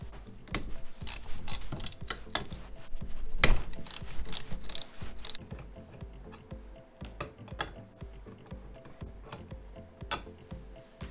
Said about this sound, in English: remove these two 12mm bolts that are holding that fuel rail down